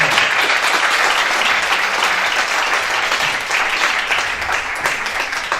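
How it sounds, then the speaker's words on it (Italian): A theatre audience at a staging of Greek tragedy in Sicilian gives actress Francesca Ferro loud, sustained applause, dense clapping from many hands filling the whole stretch evenly. "Un applauso speciale per Francesca Ferro"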